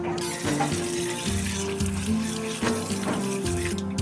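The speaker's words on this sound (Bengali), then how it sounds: "আমরা পুঁইশাক পাতা নিয়ে এসেছি, অনেকগুলো নিয়ে এসেছি। এখন আমরা ধুতে যাচ্ছি" Malabar spinach leaves washed under running tap water, a steady splashing, gurgling flow, close and moderately loud, with no talking.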